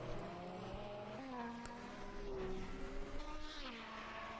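Several 1984 Formula One race cars in a Monaco race sim, an Arrows BMW ahead of a Renault, whine through gear changes with rising and falling engine pitch, loud and continuous, with a commentator's voice faintly under the engines.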